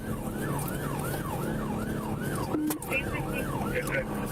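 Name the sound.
police car siren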